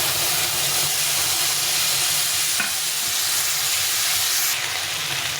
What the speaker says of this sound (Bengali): ফুলকপি আর আলুটা ভালো করে কষিয়ে নিয়েছি।